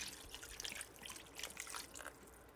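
A soft trickle of water mixed with gravy powder is poured over pork cubed steak in a pan, a faint, steady liquid dribble with small drips and no talking.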